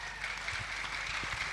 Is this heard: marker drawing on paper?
no